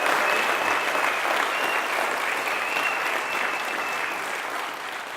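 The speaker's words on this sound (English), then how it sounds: "You can give me a round of applause." A room full of people gives a sustained round of applause, a thick, even wash of clapping that holds steady and fades slightly at the end.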